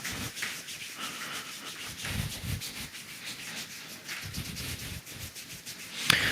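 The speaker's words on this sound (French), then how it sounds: "On frotte les genoux, le genou." Hands rub briskly over the knees to warm them up, a soft repeated swishing friction in short strokes, quiet and close with no talk.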